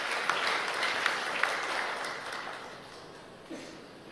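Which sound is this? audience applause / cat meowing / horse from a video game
audience applause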